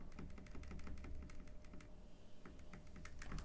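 Keys on a Redragon K617 Fizz RGB gaming keyboard with red switches are pressed in a quick, irregular run of soft, close clicks and light thocks, fairly quiet, with a short pause before the typing resumes.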